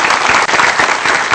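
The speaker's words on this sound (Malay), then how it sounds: "Tepukan kepada diri anda." Applause from a gathering of university student leaders keeps up as a loud, dense clapping throughout.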